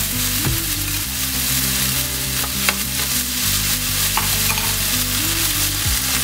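Chicken and garlic sizzling in a frying pan, a steady loud close hiss with occasional stirring scrapes and light clinks throughout.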